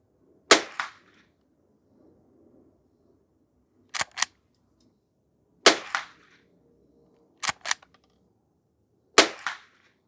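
A Henry H001 lever action rifle fires bulk ammunition at a range: sharp, loud cracks spaced a couple of seconds apart, some closely doubled, separated by near silence.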